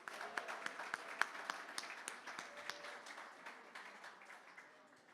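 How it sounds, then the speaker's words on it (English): A room of art auction attendees gives the bidders a round of applause, scattered crisp claps sounding faint and gradually thinning out toward the end, with no talk. "Would you give all those amazing bidders one more big round of applause?"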